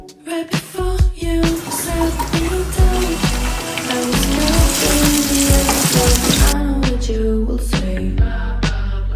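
Onions fry loudly in a pan with a dense crackling sizzle. Clatters and scrapes of stirring come through, and the spattering eases slightly toward the end.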